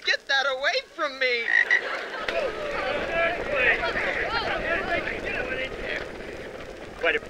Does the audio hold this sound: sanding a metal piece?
no